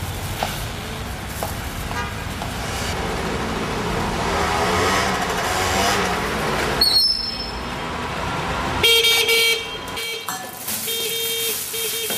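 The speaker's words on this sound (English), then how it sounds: "What's all that honking?" A car horn honks amid steady traffic or rail-like rumble, with bright tonal blasts near the middle and a longer burst toward the end, loud and close, with no speech.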